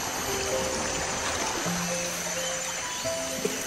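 A strong river current rushes steadily past a riverside campsite in Sungkai, Perak, a dense, continuous close-up wash of flowing water with no pauses.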